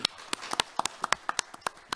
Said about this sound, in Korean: 다시 한번 감사의 박수 보내주시죠